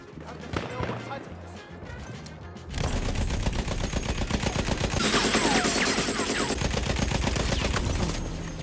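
Light machine gun firing in an online shooter video game, with dense rapid bursts of automatic fire that build after a short lull and keep going, loud and close, alongside other game noise.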